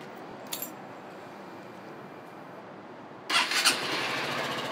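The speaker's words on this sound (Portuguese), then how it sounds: "Agora eu vou ligar ela pra vocês ouvirem o barulho." A Honda Titan EX motorcycle with its original exhaust starts up close: a quiet stretch with a brief click, then after about three seconds the engine catches and runs with a loud, steady rumble.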